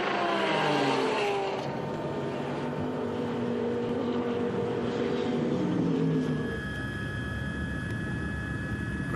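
Onboard engine roar from the App Team Mamro Audi racing car at the Nürburgring Nordschleife during the 24 Hours race, loud and close, with rising and falling harmonic sweeps as it accelerates and shifts, then a steadier high drone.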